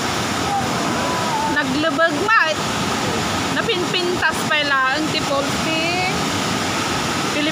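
Gooseberry Falls at a state park near Duluth, Minnesota, gives a constant broadband roar of falling water, while people talk intermittently over it nearby.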